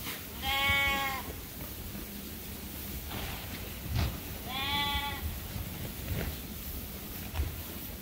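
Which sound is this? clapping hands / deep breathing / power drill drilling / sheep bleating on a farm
sheep bleating on a farm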